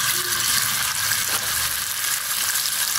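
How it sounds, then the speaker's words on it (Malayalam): Fish pieces frying in oil left over from frying onions and carrots, for a fish biryani: a loud, dense, continuous sizzle close up, with no voices. "ഉള്ളിയും ക്യാരറ്റും എടുത്ത എണ്ണയിൽ തന്നെയാണ് ഞാനിപ്പോൾ മീൻ പൊരിക്കാൻ ഇടുന്നത്"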